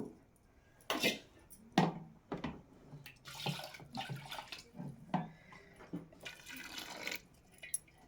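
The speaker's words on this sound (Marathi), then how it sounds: "आणि याच्यात पाणी ओतून ठेवायचं." Water is poured over washed sago pearls in a kitchen vessel to soak them, heard as several short, close gushes and splashes mixed with light clinks of utensils, at a fairly low level.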